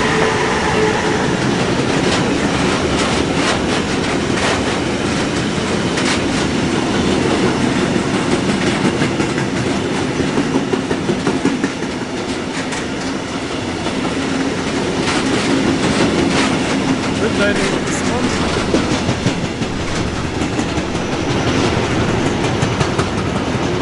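A freight train hauled by a Railpool Traxx electric locomotive rolls past at Aschaffenburg, a steady loud rumble of wagons with rhythmic clickety-clack and faint wheel squeal, continuous and fairly close.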